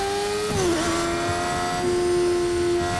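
A loud, steady video game motorcycle engine in Fortnite drones close by with a sustained tonal whine that dips briefly as the revs shift, then holds level.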